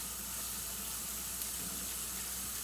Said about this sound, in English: so let's get water in here